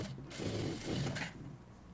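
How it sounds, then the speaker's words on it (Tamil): A sewing machine stitching a blouse sleeve gives a soft, steady mechanical whirring and clicking that runs for about a second and a half, faint and close, then trails off. "அப்படியே வச்சு நகர்த்தி மட்டும் தையல் போடணும்."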